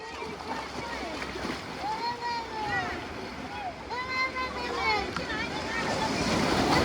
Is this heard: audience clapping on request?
no